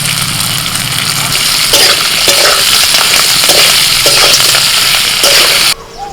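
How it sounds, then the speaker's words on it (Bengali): Potatoes frying in oil with mustard seeds and curry leaves, a steady close sizzle with stirring scrapes that runs loud and continuous, then cuts off sharply near the end. "মা ওইদিকে আলুটা ভাজছেন"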